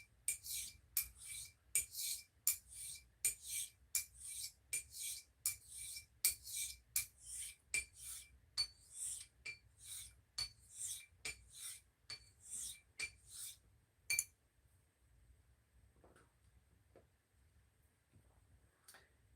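A vintage straight razor honed on a stone, rhythmic rasping strokes about every half second for roughly fourteen seconds, close and crisp, then a faint quiet tail.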